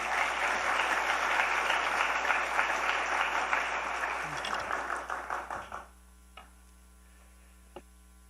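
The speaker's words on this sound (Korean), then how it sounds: "목사님 나오실 때 박수로 맞이하겠습니다." Congregation at a church education seminar in Ulsan applauds to welcome a pastor: loud, dense clapping for several seconds that tapers and stops, leaving a steady mains hum with a couple of faint knocks.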